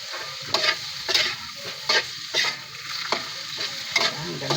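Alugbati (Malabar spinach) sautés in a pan with a continuous sizzle, punctuated by a regular series of spatula scrapes and clacks every half second or so. Close and moderately loud, with no talking.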